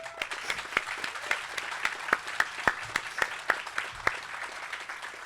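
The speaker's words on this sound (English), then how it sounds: "please, you know, a round of applause for the team specifically" An audience at a product unveiling event claps for the team, a moderate round of applause with distinct individual claps standing out at a near distance, lasting the whole stretch.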